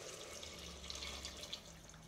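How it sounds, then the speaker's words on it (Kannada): Hot water pours into a cooking pot of fried field beans (avarekalu) for tomato pulav, a soft, steady trickle and splash that stays faint and continuous throughout. "ನೆಕ್ಸ್ಟು ನೀರು ಹಾಕ್ಕೊಳ್ತಾ ಇದ್ದೀನಿ."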